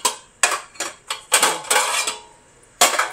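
Antique brass boxes, six small ones nested inside a larger box, are handled and taken apart with a series of sharp, ringing metallic clinks and knocks in uneven rhythm, close and fairly loud.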